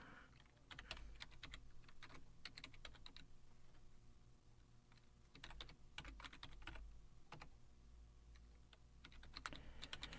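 Rapid computer keyboard typing into a web form comes in bursts of clicky keystrokes with short pauses between runs, close and fairly quiet, with no talking.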